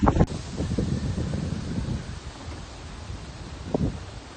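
Strong storm wind roars and buffets the microphone in Kyiv, with gusty rumbling bursts and rustling, loud at first and easing into a steadier whoosh.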